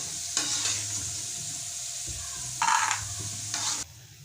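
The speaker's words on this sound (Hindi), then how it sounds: "2 से 3 मिनट के लिए अच्छे तरीके से इनको करेंगे फ्राई।" Steady sizzling of almonds frying in a pan, with a couple of louder bursts of crackle as they are stirred.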